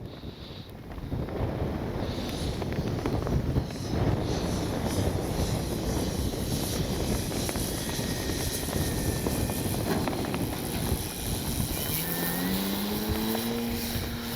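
A Hangar 9 Valiant RC plane with a 20cc gas engine drones steadily overhead as it is flown down before landing, a continuous loud propeller roar with a pitch that slides downward near the end, without talk.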